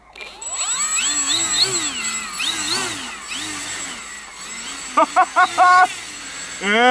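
A twin-motor Eachine Bushloader RC airplane, a 1280mm EPP foam model, taxis nearby, its electric motors whining and rising and falling in pitch as the throttle changes, with brief voices near the end.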